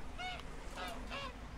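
A duck in the video game Summer in Mara gives three short nasal quacks at an even pace, fairly close and clear over a soft steady background.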